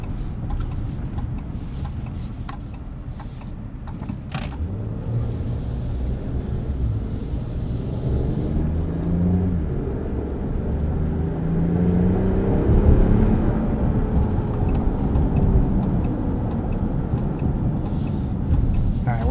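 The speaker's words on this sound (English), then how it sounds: "This inline six doesn't sound like anything special. It just kind of sounds like any old 6-cylinder." A 2025 RAM 1500 Crew Cab Laramie 4x4 pickup with an inline six-cylinder engine, heard from inside while driving: a steady low engine drone with road and tire rumble, its pitch rising and falling gently as the truck accelerates.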